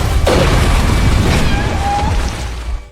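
A single gunshot fired at a creature atop a building in a film scene, a loud boom early on over rumbling, noisy action-scene sound.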